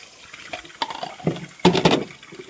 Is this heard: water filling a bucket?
yes